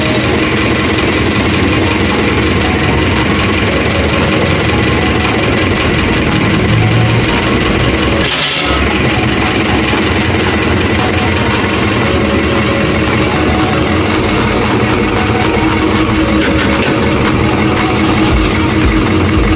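A small engine idles loudly and steadily throughout, with a constant rough chugging and no pauses.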